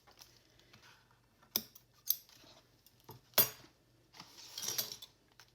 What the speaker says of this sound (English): And then I'm just going to trim it off.